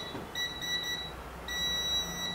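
A multimeter in continuity beep mode tests a phone circuit board and gives two steady high-pitched electronic beeps, the first about three-quarters of a second long and the second slightly longer, over a quiet room hum.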